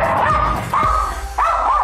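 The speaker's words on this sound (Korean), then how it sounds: "무섭게 짖네" An aggressive dog barks fiercely at a visitor indoors in three loud, close barks with yipping, strained edges. The barks come in quick succession.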